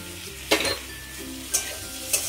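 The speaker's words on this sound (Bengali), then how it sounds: "এবার এর মধ্যে দিয়ে দেবো কুচি করে রাখা টমেটো" Chopped tomatoes frying with spices in a pan for a moong dal and spinach dish, a steady sizzle broken by three distinct stirring scrapes, close and alone without talk.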